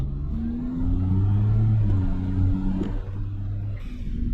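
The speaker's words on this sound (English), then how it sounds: "You can really hear the turbo spool in this thing." Turbocharged Suzuki Alto Works HA11S with its small engine droning from inside the cabin, a rising whine of turbo spool over a steady low rumble, moderately loud and continuous.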